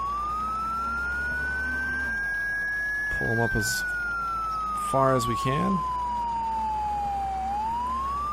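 An ambulance siren wails in Project Zomboid while the vehicle drives, a single slow rising and falling tone running continuously. Someone speaks briefly over it, with engine rumble underneath.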